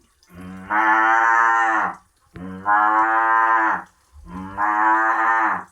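A human voice imitates a cow in a barn, giving three long, drawn-out moos at a steady pace, loud and close, each separated by a short pause.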